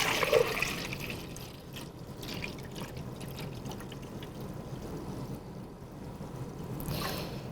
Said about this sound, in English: And I'm gonna pour it into the pitcher so you can see it.